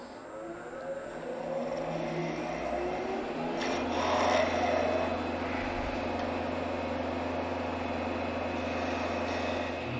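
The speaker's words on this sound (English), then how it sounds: "what I'm going to do is trim off the end of my handle" A wooden handle spins on a lathe while a cutting tool trims its end, making a continuous whirring hum with a steady scraping hiss on top, near and fairly loud, with no voices.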